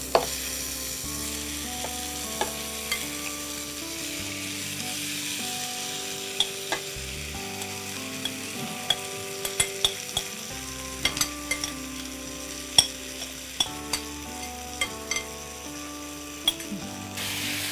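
Marinated mutton stirred in a hot pan for a mango-kasundi mustard curry, with a steady close sizzle of frying and repeated scraping clicks of the spoon against the pan, alone without talk.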